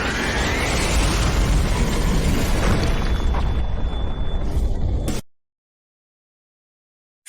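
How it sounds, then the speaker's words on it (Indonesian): Loud, dense rumbling of video game fireworks exploding with crackling bursts and a whistling streak, continuous for about five seconds before cutting abruptly to silence. "Kembang api malam ini"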